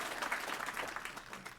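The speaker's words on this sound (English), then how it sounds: "And can we have a round of applause for Tina," A brief, fairly soft round of applause from a conference audience honoring a colleague, a continuous patter of many hands clapping at a distance.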